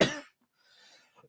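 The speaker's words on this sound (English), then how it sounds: "I've not had this bad a cough." A single harsh cough bursts out loud and close at the start, then fades into quiet breathy noise and a couple of small throat sounds, from a person partway through a long talking session.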